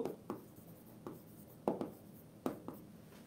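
Chalk or marker taps and short strokes on a board during a physics class, a quiet series of separate scratchy bursts spaced roughly half a second apart in a hushed room.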